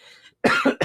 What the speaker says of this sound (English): I'm going to try to cough outside the microphone.